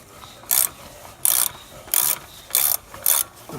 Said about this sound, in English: I'm gonna take out these bolts on the top and then one on the bottom as well